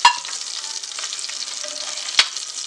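Hot oil sizzles steadily in a pan after fish has been fried for an Indian baby shark fish biryani, a continuous close frying hiss with a couple of brief clinks and stirring scrapes.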